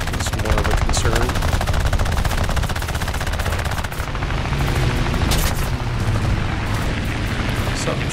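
Rapid aircraft machine-gun fire in War Thunder air arcade combat, a Nimrod Mk II attacking an I-15 biplane, with loud sustained bursts over engine roar and brief pauses, continuing almost without break.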